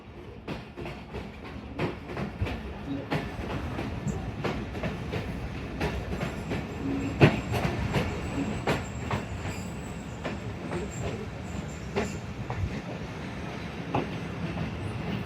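Narowal passenger train running on rails on approach to Raiya Khas station, with a steady rumble and rhythmic clickety-clack of the wheels, a sharp clank near the middle, heard from inside the carriage.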